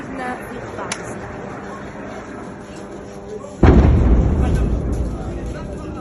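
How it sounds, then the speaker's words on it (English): Bombing in Khan Younis in southern Gaza: a heavy, close explosion booms suddenly midway and rumbles on, following a duller earlier blast under steady background noise. "By the way, the bombing never stops."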